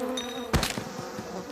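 Insect-like buzzing of bees in an animated scene, a steady thin drone broken by a brief loud burst of clatter partway through, with no talk over it.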